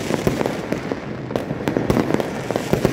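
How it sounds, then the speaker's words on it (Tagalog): New Year fireworks crackle and pop in rapid, irregular bursts, loud and fairly close, with sharp bangs layered over a constant rumbling background. "mamahal po nung fireworks na yan"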